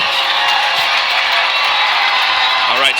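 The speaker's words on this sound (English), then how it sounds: "So a lot of noise being made by our crowd right now" Home crowd at a Friday night high school football game, Buchanan Bears against De La Salle, roaring and cheering in a steady loud wash of noise, with a voice rising briefly near the end.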